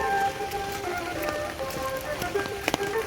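Heavy rain pours down in a steady, dense hiss with scattered louder drops and splashes, close by and continuous through the short stretch.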